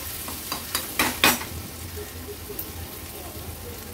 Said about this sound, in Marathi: हळद ऍड केल्यावर पण व्यवस्थित अर्ध्या मिनिटासाठी मी लो टू मीडियम फ्लेमवर छान हे परतून घेते